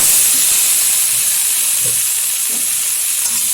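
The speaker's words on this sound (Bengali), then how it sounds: "এখন দিয়ে দেবো এর মধ্যে ধুয়ে রাখা শাপলা।" Washed water lily stems sizzle steadily in hot oil with black cumin and turmeric, a constant close hiss with faint stirring knocks and no talk.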